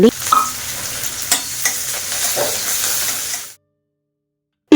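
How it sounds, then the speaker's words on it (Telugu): Paneer pieces fry in hot ghee with salt and turmeric, giving a steady close sizzle broken by a few stirring scrapes, before cutting to silence near the end. "గీ కొంచెం వేడైన తర్వాత కొంచెం ఉప్పు పసుపుతో పాటు పన్నీర్ పీసెస్ కూడా యాడ్ చేసి ఫ్రై చేసుకోవాలి"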